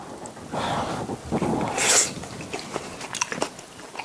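A bite of freshly made dumpling donburi is taken and chewed, with soft close-up mouth sounds and a brief sharp breath or crunch in the middle, and no talking.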